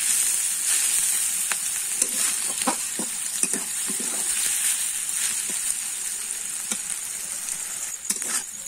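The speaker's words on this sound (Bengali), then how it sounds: "আমি এবারে কিন্তু ভালো করে নেড়ে চেড়ে ভেজে নেব।" An egg fries in a pan as it is stirred, making a bright, steady hiss with scattered clicks and scrapes from the spatula, heard up close with no voices.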